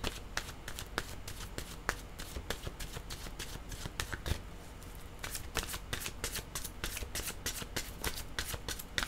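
Tarot cards are shuffled by hand in a quiet room, a soft, rapid, continuous riffling and flicking of card edges with a fast, uneven rhythm, close but faint.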